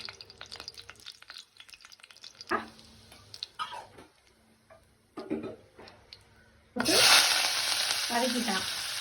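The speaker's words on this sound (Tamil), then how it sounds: "எண்ணெய் ஊற்றி பேண்டன் லீஃப் போட்டுக்கலாம்." Pandan leaves go into hot oil in a pan while cooking mung dal rice: light clinks and stirring, then a loud, close sizzle bursts in near the end.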